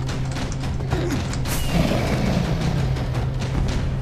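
Flying machine mechanism moving in Minecraft, steady mechanical clicking and creaking with ratchet-like ticks, a brief louder burst midway, heard alone without speech.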